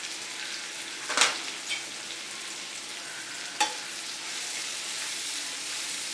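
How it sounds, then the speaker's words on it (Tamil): Onions and curry leaves sizzle steadily in oil with a broad hiss while making prawn fry, punctuated by a couple of sharp clinks or stirs, fairly close and without any talking. "வெங்காயமும் கருவேப்பிலையும் நல்லா வறுபடட்டும்."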